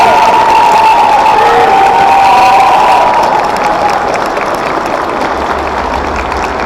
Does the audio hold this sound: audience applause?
yes